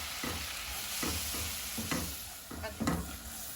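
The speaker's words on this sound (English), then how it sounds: "I'm going to give it a good mix" Flour being stirred into a pan on a low-to-medium stovetop, a spoon scraping in several distinct strokes over a soft steady background hiss, close and moderately quiet with no voices.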